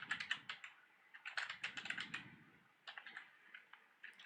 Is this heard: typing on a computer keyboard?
yes